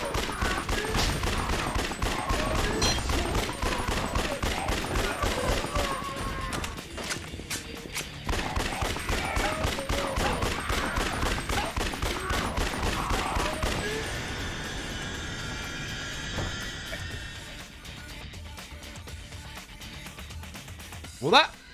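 Rapid bursts of gunfire shooting zombies in the video game Yakuza: Dead Souls crackle in dense volleys, interspersed with footsteps and game noise, while a person talks over much of it.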